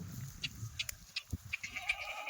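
Kathiawari goats bleating on a farm, several short nasal bleats spread across a few seconds, some near and some farther off, over quiet background rustle.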